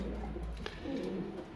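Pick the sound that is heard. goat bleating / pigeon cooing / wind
pigeon cooing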